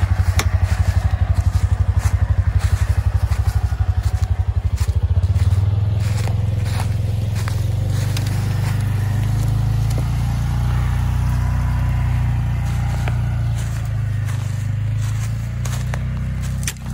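A vehicle, likely a tractor or truck, drives around a maple sugarbush while collecting sap, its engine a steady low rumble throughout, with scraping, clattering and crackling over it and a brief idle-like pulsing at the start.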